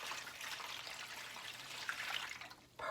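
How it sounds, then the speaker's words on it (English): Vegetable broth poured into the bottom of a turkey roasting pan, a faint, steady trickling splash of liquid that lasts a few seconds. "I just want to add a broth to the bottom of the pan just to give it more moisture"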